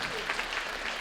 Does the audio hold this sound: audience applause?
yes